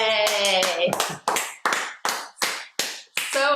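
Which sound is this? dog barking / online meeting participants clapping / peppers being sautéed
online meeting participants clapping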